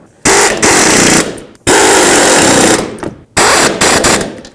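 Loud rattling bursts from an impact tool driving nuts down on the front strut bolts of a 2006-2011 Chevrolet HHR, three close hammering runs of about a second each with short breaks.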